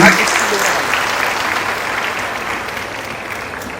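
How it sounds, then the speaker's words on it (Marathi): Loud applause from an audience welcoming a minister at an event, thick sustained clapping that starts strong and slowly eases off, close and continuous. "जरा जोरदार टाळ्या वाजवा त्यांच्यासाठी."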